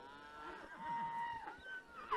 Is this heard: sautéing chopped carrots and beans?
no